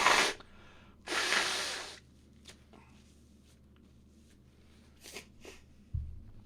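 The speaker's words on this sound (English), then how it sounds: "Let me blow my nose for a second" A person blows their nose close to the microphone, two loud hissing blasts followed by quieter sniffs and breaths over a low steady hum.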